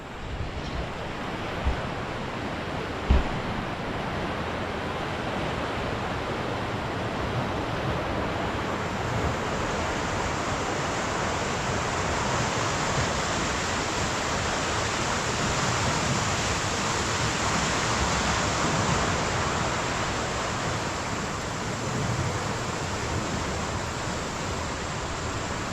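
Eastern Kentucky floodwater rushing as a loud, steady broadband roar for the whole stretch, with one brief knock early on and no talk.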